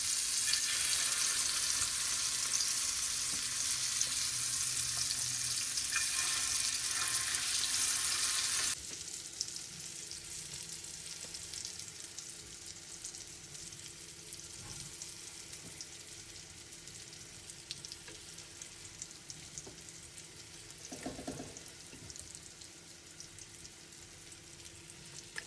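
Masala fries in coconut oil for a Sri Lankan paruppu keerai kadayal. A loud, bright sizzle runs for about nine seconds, then settles into quieter, steady frying with occasional soft stirring knocks.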